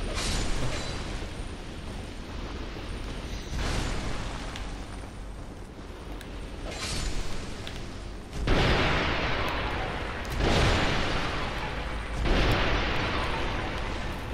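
A string of booming explosions in Dark Souls 2, each a loud roaring burst that fades before the next, repeating several times over continuous rumble.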